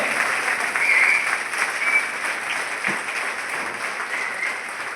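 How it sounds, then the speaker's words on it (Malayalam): An audience at a business gathering in Palakkad rises to its feet and applauds, a dense, loud wash of clapping from a large crowd sustained throughout, with no talk over it. "എല്ലാവരും ഒന്ന് എണീറ്റ് നിന്നുകൊണ്ട് നല്ല കൈയടി."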